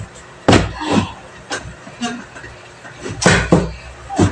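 A stiff household drawer being tugged open, heard as a series of close, loud thumps and scraping jolts spread across a few seconds.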